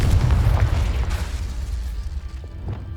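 A Confringo explosion spell bursts in Hogwarts Legacy, a loud deep boom with heavy low rumble at the start that slowly decays into softer crackling debris and faint pops.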